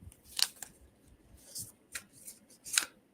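A Sacred Traveler oracle card deck is shuffled by hand in a quiet room, giving about five short, crisp riffling bursts spaced irregularly with near-silence between them and no talking.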